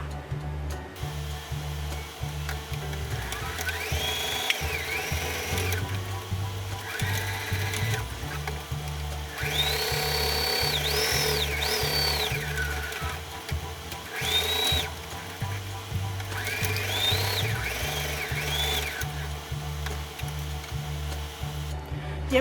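A sewing machine stitches around the edges of a fabric cup holder piece in fast, steady motor-driven runs broken by brief pauses. A high whine rises and falls over the low rhythmic chatter.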